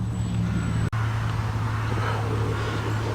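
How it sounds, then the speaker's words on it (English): A Jaguar XK8 V8 idles at a classic car show with a steady low burble, close and continuous, with a brief dropout near the start and no talk. "Hear that beautiful V8 burble."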